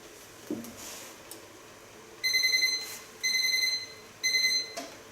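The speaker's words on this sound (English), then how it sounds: "Now set the alarm on 5 minutes." Five-minute timer alarm going off during a hair perm: three short bursts of high electronic beeping, evenly spaced, over a quiet room background.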